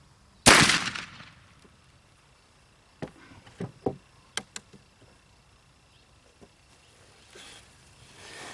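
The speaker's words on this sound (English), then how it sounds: "For the third and final shot, I'm switching back to my homemade percussion caps." A muzzleloading rifle fires homemade black powder set off by homemade percussion caps, giving one loud close report that rolls off into echo. Fainter clicks and knocks follow in the quiet afterward.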